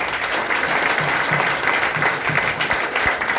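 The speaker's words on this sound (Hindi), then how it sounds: "आपके लिए एक बार जोरदार ताली होनी चाहिए।" Audience at a seminar in Bihar breaking into loud, sustained applause, dense clapping filling the whole stretch at steady volume with no talk over it.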